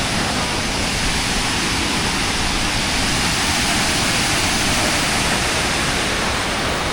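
Water rushes at Neyyar Dam in a continuous, loud, steady roar that stays even throughout, with no voices or other distinct sounds above it.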